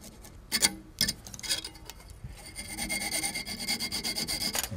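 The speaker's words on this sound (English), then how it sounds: "I'll just take a little bit of sandpaper here and" Sandpaper roughs up material at a fly-tying bench, a few scratchy strokes at first, then a quicker rhythmic rubbing close by.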